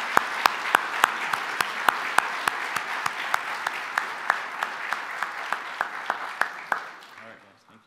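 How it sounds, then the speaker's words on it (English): Congregation applause at a church service, a steady wash of many hands clapping with one sharp, rhythmic clap standing out close by, fading away at the end. "let's give these guys one more round of applause."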